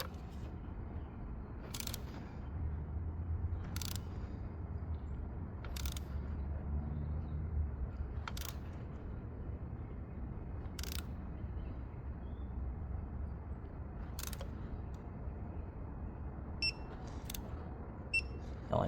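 A click-type torque wrench tightens the valve cover bolts on a 2014 Lexus CT200h to 7 foot-pounds, giving a series of sharp, evenly spaced clicks over a low steady background hum.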